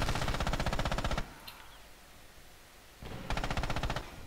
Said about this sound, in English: the main machine gun is still firing